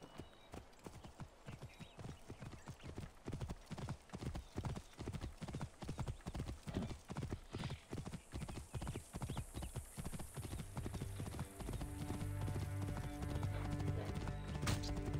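Horse hooves clip-clop steadily on the ground in the game Assassin's Creed Origins, a fast even rhythm of close, loud strikes that runs for most of the stretch before blending into other game sounds near the end.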